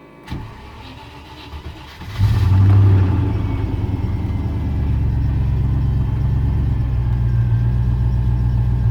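A 1994 Range Rover running on petrol makes a cold start: a click and starter crank, then the engine catches with a loud burst and settles into a steady, rumbling idle.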